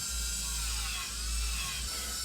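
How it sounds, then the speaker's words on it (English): An electric nail drill works on soft gel nails, a steady, close, high whirring buzz that dips slightly in pitch under load midway, with no talking heard. "I don't know if y'all can hear me over my drill"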